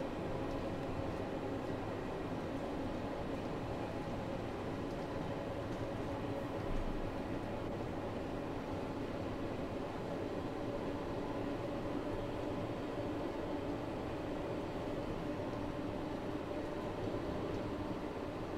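London Underground Bakerloo Line train driven in Train Sim World 2, a steady, continuous rumble of motor and wheels on track running unbroken throughout, even in level, with no talking.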